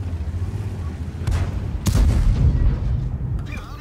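A loud, booming tank cannon shot in World of Tanks, a sharp blast with a deep rumbling tail, heard over a steady low engine drone with some faint talk.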